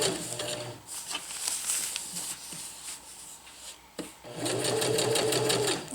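A sewing machine stitches a rolled hem on a black tarp in quick mechanical bursts, pausing briefly between runs, close and clear.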